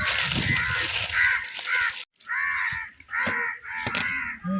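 A crow caws repeatedly near its nest in a treetop, loud and close, in several harsh drawn-out calls separated by brief pauses, with a faint hum of background noise.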